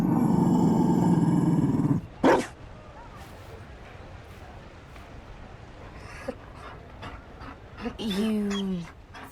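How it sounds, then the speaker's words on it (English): A Mabari war dog in Dragon Age Inquisition growls and roars, with a loud roaring burst at the start, panting and rustling, and later a rising growl, while voices speak in places. "You found a dog."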